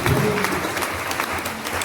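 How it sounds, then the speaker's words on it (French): Steady, dense applause from a large crowd at Thorens-Glières, France, evenly sustained clapping with no pauses or talking. "Alors je vous demande de vous applaudir"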